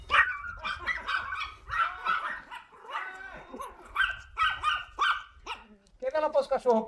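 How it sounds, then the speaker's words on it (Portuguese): Dogs bark and yip in short repeated bursts at a rural home, mixed with people talking nearby, the barks fairly close and irregular. "Os cachorros pra correr, Roberto?"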